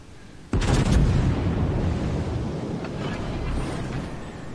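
A West Virginia battleship's guns fire in World of Warships, one sharp loud blast followed by a long, rumbling decay that slowly fades over the rest of the moment.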